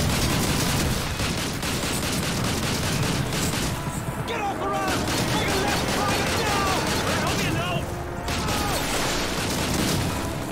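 Dense gunfire and explosions from a Call of Duty 2 battle roar continuously, with constant overlapping shots and booms while a player's voice comes through faintly beneath.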